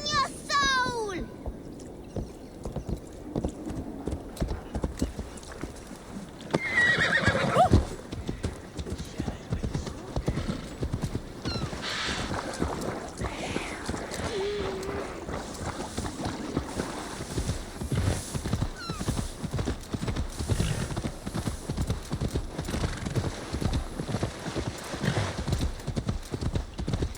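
A horse's hooves clip-clop at a steady rhythm throughout a stretch of Assassin's Creed Valhalla gameplay, with a short neigh near the start and a louder burst of movement midway.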